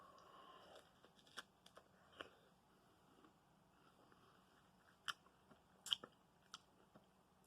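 Faint, close crunches and bites scattered over quiet, irregular crisp snaps of chewing firm fruit, with no talking.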